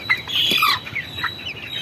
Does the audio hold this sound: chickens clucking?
yes